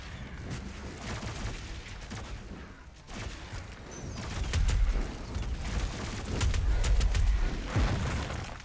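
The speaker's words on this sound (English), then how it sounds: "Two shotgun shots and this thing is gone." Shotgun blasts from Doom Eternal gameplay with combat chaos around them: heavy booming shots and impacts, loudest in the second half, over dense game noise.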